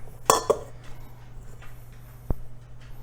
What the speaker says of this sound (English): We'll put it right on our baking pan.